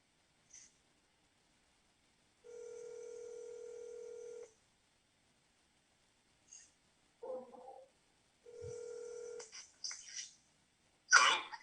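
Telephone tones play back during a council meeting as a recorded call is dialed: two long steady tones separated by silence, with brief clicks, a muffled voice fragment and handling noise at the end.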